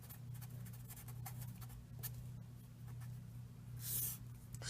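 An equation is written by hand, producing faint, close pen-scratching strokes in quick, irregular bursts against a quiet background.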